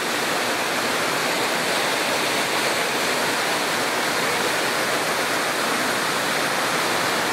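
Water pours steadily at an old hydro power plant, a loud, close, unbroken roar of falling water with no pauses.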